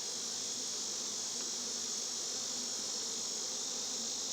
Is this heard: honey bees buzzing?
yes